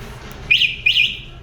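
Two quick electronic chirps from a Yamaha T-Max motorcycle alarm arming sound in succession, bright and close, with a short gap between them over a quiet background.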